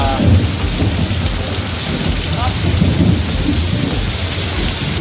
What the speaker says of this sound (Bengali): কি হারে বিদ্যুৎ চমকাচ্ছে দেখো।